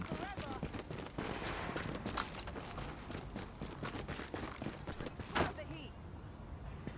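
Shotgun blasts in a shotgun-only video game round in the Lincoln Tunnel, heard as a dense run of sharp shots with one louder blast near the end, under excited talking.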